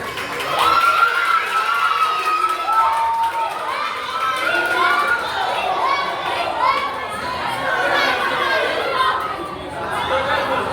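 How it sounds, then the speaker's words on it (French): At the grand final of the Miss Ouvrière Haïti 2024 pageant, a crowd cheers, whoops and shouts loudly and continuously, with scattered voices rising and falling throughout. "je vous demande de l'applaudir chaudement."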